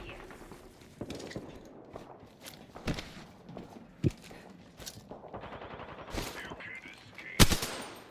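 Bursts of automatic gunfire and scattered single shots from a mecha combat video game ring out in rapid volleys, mixed with footsteps and in-game noise at moderate loudness.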